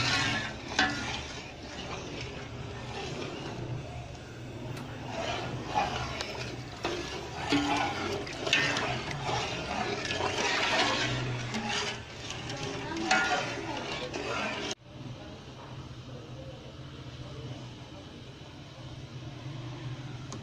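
Sugar syrup boiling vigorously in a pot, a steady bubbling, sizzling rush close by under a voice, dropping to a quieter simmer toward the end.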